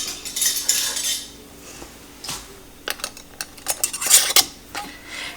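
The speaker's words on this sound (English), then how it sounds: "Put on a warm lid." A warm metal canning lid is set onto a glass jar of lemon ginger marmalade, giving a few sharp, close metallic clinks and taps among quieter handling noises, with no voices.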